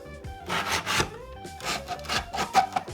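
The adjustable windscreen on a Yamaha Tenere 700 motorcycle scrapes and rubs as it slides, a quiet rasping scratch in several short, uneven strokes heard close up, with no voices.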